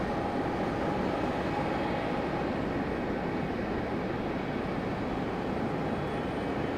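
A Frontier airliner flies a downwind approach at Raleigh-Durham airport at sunrise, a steady distant jet roar with an even rumble and no voices.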